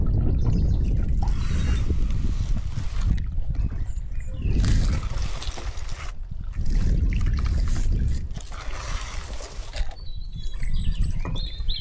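Rainwater flows freely through a roof gutter that has just been cleared of its gutter guard, a steady rushing trickle with clattering bursts from the gutter work, close and fairly loud throughout.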